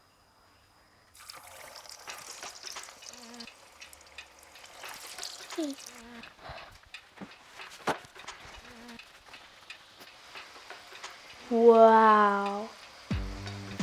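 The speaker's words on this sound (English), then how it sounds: "So we're going to add our potato inside now." Raw potato pieces slide into hot frying oil for French fries, setting off a crackling, bubbling sizzle under a person's quiet speech, ending in a brief loud hiss and clatter.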